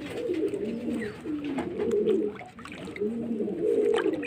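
Pigeons coo in continuous low, throaty rolls while being handled and wetted in preparation for flying, the calls close and loud with no talking.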